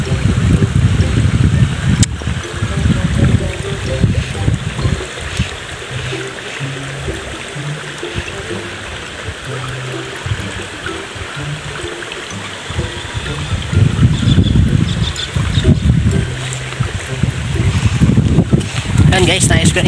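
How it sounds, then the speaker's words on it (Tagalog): Strong wind buffets the microphone outdoors in a steady, roaring gust that swells and eases, with a person talking over it. "Taas ng hangin."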